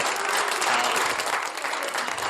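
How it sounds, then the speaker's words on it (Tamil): An audience breaks into a burst of applause for children at a live stage event, dense and steady clapping from many hands filling the short stretch alone, without speech. "வா நல்ல ஒரு கைத்தட்டு கொடுங்க அந்த குழந்தைங்க."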